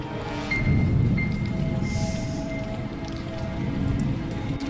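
Rain and rumbling thunder from a video game play as a steady, fairly loud wash of rainfall, with low rolling thunder swelling beneath it throughout.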